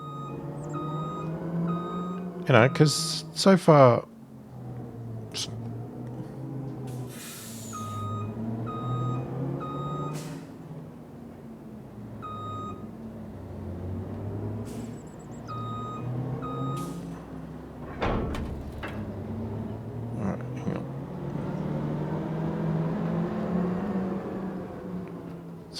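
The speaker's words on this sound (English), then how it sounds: "So let's get our truck." A truck in Farming Simulator 25 gives off repeated reversing beeps as a steady series of tones over a low engine drone, with a few louder clunks, while someone talks over it.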